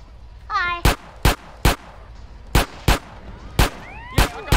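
Single video-game gunshots ring out in a loose series of about nine sharp, loud cracks separated by short gaps, with a brief chirpy tone and faint background sound in between.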